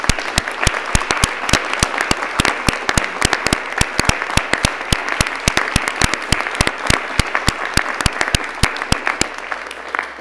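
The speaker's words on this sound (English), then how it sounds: "join me in applauding all those who have made you successful" Audience at a graduate studies convocation breaking into applause, a dense, steady wash of clapping from a large crowd with sharp individual claps standing out, sustained for about ten seconds with no talking.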